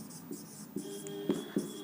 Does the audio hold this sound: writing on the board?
yes